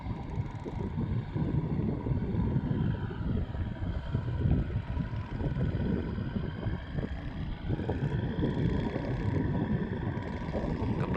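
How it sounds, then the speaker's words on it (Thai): An oil tanker ship heads out of the Pattani River into the Gulf of Thailand, a low continuous engine rumble and water wash mixed with steady wind buffeting on the microphone. "เป็นเรือบรรทุกน้ำมันครับ"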